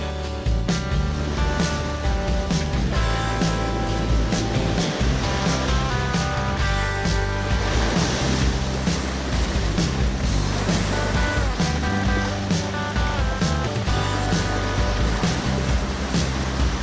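Ocean waves crash steadily against the rocks at Blowing Rocks Preserve on Jupiter Island, Florida, a loud, continuous roar of surf with repeated breaking swells and no voices.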